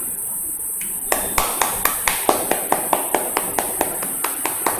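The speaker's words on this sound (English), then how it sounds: "Start clapping loudly." Rhythmic hand clapping at an exercise session, a series of sharp, evenly spaced claps, roughly four per second, that begins after a quiet second and stays loud and close.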